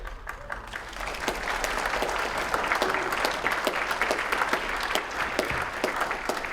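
Steady applause from a convention audience at a brony fandom panel, a dense wash of many hands clapping continuously at moderate loudness throughout.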